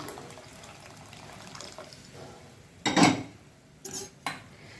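Cooked dal water is poured into a rasam pot over quiet kitchen background, with a loud splashing pour in the middle and a couple of short metallic clinks of the pot afterward.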